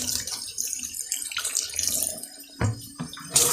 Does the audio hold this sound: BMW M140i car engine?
no